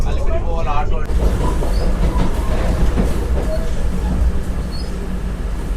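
Inside a Vande Bharat Express running from Secunderabad to Tirupati as it speeds through Gudur Junction without stopping, a loud, continuous rumble of wheels and carriage noise, close and unbroken throughout.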